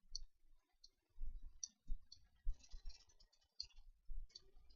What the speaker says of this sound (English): holding down Control, left mouse button, clicking